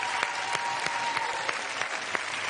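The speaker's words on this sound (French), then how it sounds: "je vous demande d'applaudir vraiment chaleureusement" Studio audience at a televised French evening hypnosis show applauding warmly, a dense, steady wash of clapping with scattered louder claps throughout, close and sustained with no talk over it.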